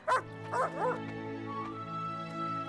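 A dog barks and yips in several short bursts, then lets out a thin whimper, heard under a low steady music bed in an animated historical scene.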